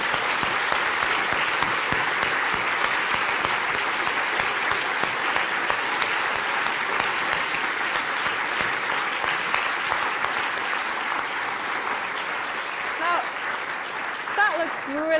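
An audience at the Royal Institution Christmas Lectures gives the technical team a long, sustained round of applause, dense steady clapping filling the hall, with a voice emerging faintly near the end.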